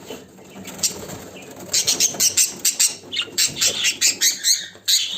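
Show pigeons flap and flutter in repeated bursts while being caught by hand in their loft, with a rapid run of close, sharp wingbeats.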